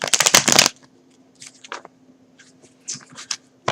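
Tarot cards riffle and flutter in a close, loud burst at the start, followed by quieter scattered card handling and light taps on a table.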